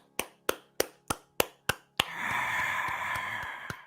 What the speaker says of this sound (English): that's the crowd going wild